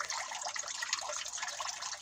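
Naftusya mineral spring water runs steadily from a forest spring, a continuous soft trickling and splashing close by with no voices.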